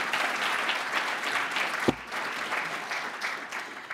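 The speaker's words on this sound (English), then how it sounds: "please give Derek Hahn a tremendous round of applause" Steady audience applause at a White House Lunar New Year celebration for the OMB director, moderately loud and continuous, with one sharp knock or thump partway through.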